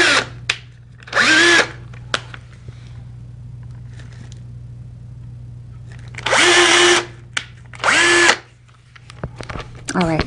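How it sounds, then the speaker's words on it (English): A power drill bores a small hole in the top of a frugal basement grow light build, whirring in two pairs of short bursts over a steady low hum, with scattered handling clicks between them. "I'm going to drill a little hole right in the middle of the top here"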